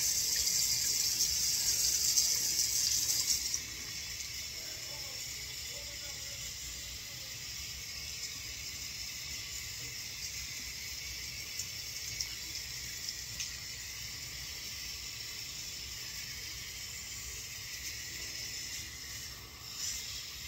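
Tap water runs into a sink while hair is rinsed: a continuous rushing flow, louder for the first few seconds, then a softer steady stream.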